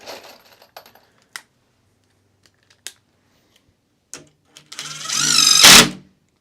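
Longer screws being driven into a door, a few brief separate clicks and taps early on, then a sustained loud whirring burst of a powered driver near the end, close by with no talk.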